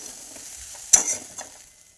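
Spoon stirring tomato poha in a pan, soft scraping with one sharp clack of utensil against metal and a few lighter scrapes, close and brief.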